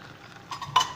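Chickpea flour halwa being mixed with almonds, pistachios and nuts in a pan, a few soft scraping stirs followed by a brief clink of a utensil against the pan, quiet and close.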